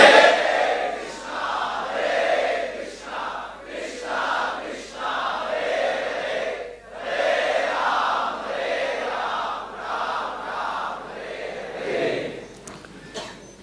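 A large crowd at the Prerna Festival chants the holy names together in rhythmic, phrase-like waves of massed voices, moderately loud and continuous.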